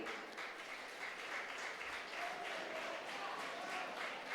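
Audience applause at a college pattimandram debate in Tamil Nadu, a steady, fairly faint wash of many hands clapping at once, continuous for a few seconds with no voices standing out.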